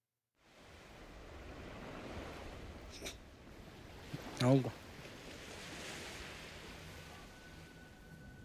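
Waves washing onto the seashore in the video game Death Stranding, a steady broadband surf wash running throughout with a brief spoken exclamation partway through.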